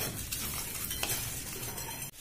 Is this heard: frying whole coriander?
yes